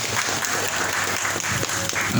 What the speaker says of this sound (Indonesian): tepuk tangan dulu dong teman-teman peserta.